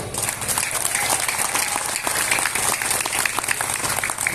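Audience at a religious lecture gathering in Bangkalan, a steady wash of clapping, loud and continuous across the whole stretch with no clear pauses.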